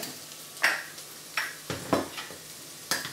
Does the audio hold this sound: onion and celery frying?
yes